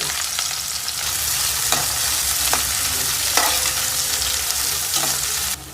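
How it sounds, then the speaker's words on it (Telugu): Mustard seeds and sugar go into heated oil, producing a loud continuous sizzle with scattered sharp pops and stirring clicks, easing slightly at the very end. "నూనె అయితే కాలింది, ఆవాలు అయితే వేసేసుకుందాం."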